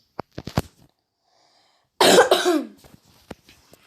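A person coughs: a few quick, sharp coughs first, then after a pause one harsher, longer cough that trails off, followed by faint short throat noises, all close up with no talking.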